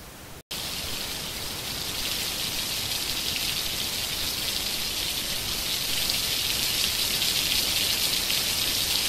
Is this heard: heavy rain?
yes